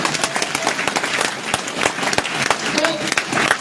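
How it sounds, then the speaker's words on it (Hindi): A seminar audience applauding, with dense, continuous clapping from a crowd filling the whole stretch at steady loudness. "मैं चाहूंगा एक बार जोरदार ताली।"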